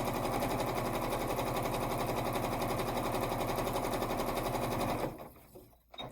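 A sewing machine quilting a quilt-as-you-go square stitches in a fast, steady, loud mechanical rhythm for about five seconds, then stops, leaving a few faint handling sounds.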